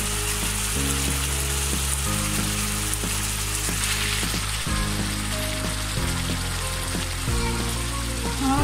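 Fish sizzling steadily in a pan of hot oil while being browned for a Bengali maskolai dal, a continuous broadband fry under sustained low tonal notes, with no talk.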